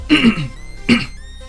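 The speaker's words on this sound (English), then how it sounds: "Tea will help me with my coughing." Two close, harsh coughs a moment apart, the first a short double burst, followed by quiet.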